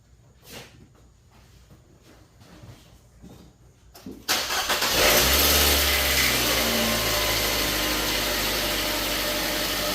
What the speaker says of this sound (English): I'm going to start up the car and see if we get a pattern on the screen